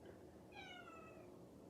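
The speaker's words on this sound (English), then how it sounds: "That's my cat, by the way." A single soft, drawn-out meow from a female cat, faint and somewhat distant, over quiet background hiss.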